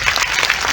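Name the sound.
audience clapping at a political rally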